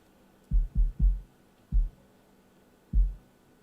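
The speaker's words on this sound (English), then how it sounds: "It's just a sine wave with a short decay, which acts like a percussion or something like this." Five short, deep percussive thumps from a sine wave synth with a short decay, three close together, then two more spaced out, like a soft synth kick.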